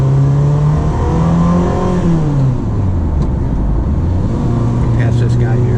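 A 1989 Ferrari Mondial T coupe engine pulls in second gear on the road, its loud, close tone rising and dipping as revs climb and ease, with a voice talking over it briefly.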